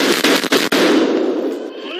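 A police officer's gunfire inside a Nashville school: three sharp, loud bangs in quick succession, followed by a long, echoing roar that slowly fades.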